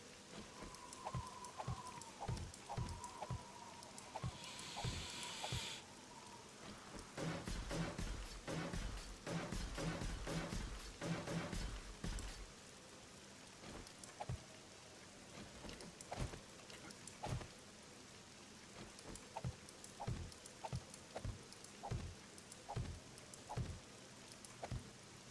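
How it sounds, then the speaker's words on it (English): Rain falls in the video game 7 Days to Die as a faint, steady patter with scattered drip ticks and a brief louder wash partway through. "Well, that rain is, I can hear in the headsets, pretty soothing."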